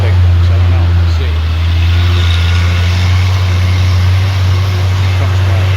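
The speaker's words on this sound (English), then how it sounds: "Here comes my dump truck along." A dump truck approaches across rural hunting land, its engine a loud, steady low drone with a constant rumble throughout and a person talking over it.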